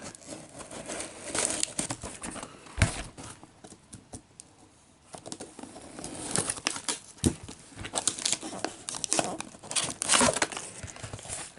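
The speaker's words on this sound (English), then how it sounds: "I'm just going to open the box now." Continuous crinkling, tearing and rustling of cardboard and tape as a taped parcel is opened by hand, the sound close and uneven with brief pauses and no talking.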